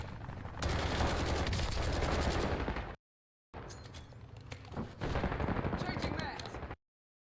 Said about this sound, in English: We hear the shooting